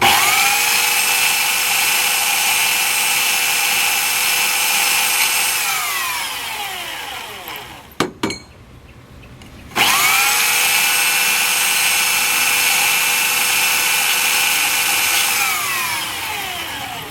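A power drill fitted with a coarse 40–60 grit sanding pad whining loudly at high speed, winding down to a stop, a short pause with faint scraping, then spinning back up and running steadily.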